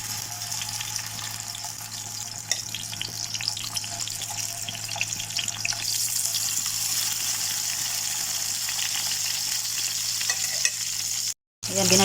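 Butter sizzles in a frying pan with tomatoes cooking, a steady moderate frying crackle with intermittent stirring and scraping sounds, briefly dropping out near the end.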